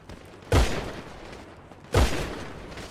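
Two sharp, booming gunshots ring out about a second and a half apart in GTA V, each loud and close with a short, rumbling decay.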